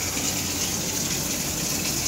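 Water runs steadily during an aquarium water change in a home fish room, a constant close rushing gush with no breaks and no voices.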